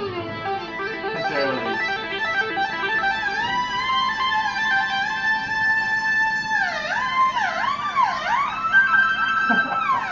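A bright electronic lead tone from the Sample Wiz app on an iPad glides and bends in pitch, swooping up and down in wavering sweeps, loud and sustained without pause.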